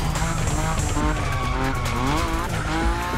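Nissan Nismo sliding through a drift in The Crew Motorfest racing game, its engine roaring loud and steady with rising and falling pitch while the tires squeal continuously throughout.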